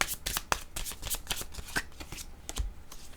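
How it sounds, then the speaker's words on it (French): Playing cards being shuffled by hand, a series of crisp riffling flutters and soft slaps in an irregular rhythm, close and moderately quiet with no talking. "là, les cartes, je les ai mélangées"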